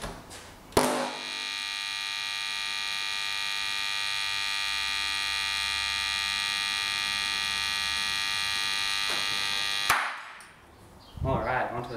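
Vintage Aiwa SX-10 speakers pushed into overdrive blare a harsh, buzzing, alarm-like tone that starts abruptly, holds loud and steady for about nine seconds, then cuts off sharply, followed by brief rustling.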